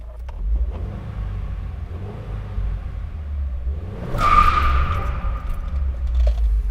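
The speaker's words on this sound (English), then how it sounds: "the traction control stops the tires from squealing" Car tires squeal sharply with traction control switched off, a bright screech rising out of a steady engine rumble about two thirds of the way through and fading while the motor keeps droning.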